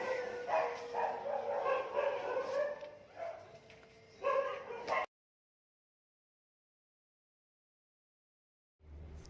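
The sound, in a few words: dogs barking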